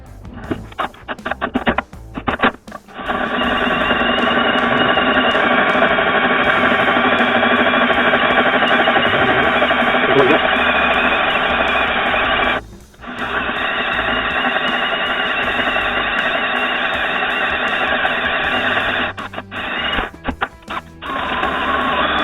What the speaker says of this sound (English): It's a 39/64, so I'm going to be drilling now.